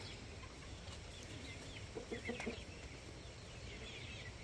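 A rooster watches over a flock of baby chicks; soft, faint clucks and peeps sit low under steady outdoor background noise, with a brief cluster of calls near the middle.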